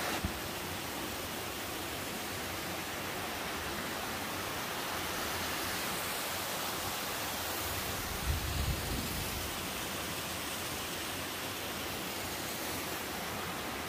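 A mountain valley stream at Seoraksan rushes over rocks near a footbridge, a dense, even roar of flowing water like a small waterfall, constant and enveloping throughout with no speech.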